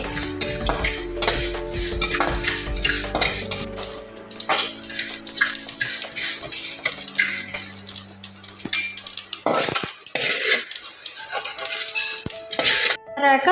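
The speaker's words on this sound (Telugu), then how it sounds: "తర్వాత మెంతులు, జీలకర్ర లైట్గా ఫ్రై అయితే చాలండి" Fenugreek and cumin seeds fry and are stirred in a pan, with clattering metal scrapes and utensil knocks close by, a dog barking now and then, and no talk.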